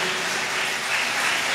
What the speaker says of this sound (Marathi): पुन्हा जोरदार टाळ्या वाजूया आपल्या स्वतःसाठी सुद्धा आणि परमेश्वरासाठी.